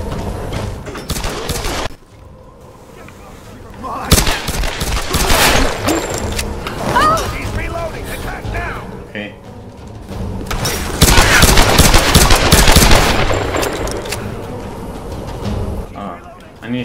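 Gunfire in the Tomb Raider video game, bursts of rapid shots in separate volleys with quieter gaps between them, while a person talks over the action.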